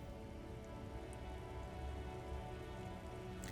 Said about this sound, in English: Sheets of rain over the water.